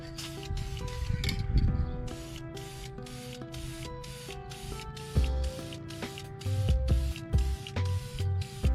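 Blue paint sprayed from an aerosol can onto brake calipers for a BBK, with repeated short hissing bursts in an even rhythm, close and fairly loud.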